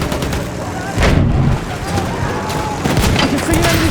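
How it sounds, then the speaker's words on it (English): Machine gun fire and battlefield blasts in a WWI video game on the Somme map, a dense, loud wash of rapid shots and booms that never lets up, with soldier voice lines mixed in. "Look out, machine gun."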